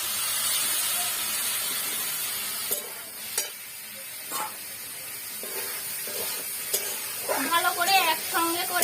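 Boiled potato and cauliflower frying with spices in a pan for a Bengali singara filling, a steady close sizzle and hiss with scattered clicks of a spoon stirring, and a short stretch of talk near the end.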